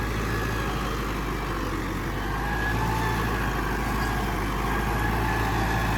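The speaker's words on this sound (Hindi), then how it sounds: "ये 640-50 हॉर्स पावर ट्रैक्टर चल रहा है" A Fiat 640 Alghazi tractor, about 50 horsepower, runs steadily with a low, constant engine drone and hum while working a field, a moderately quiet, even sound with no voices.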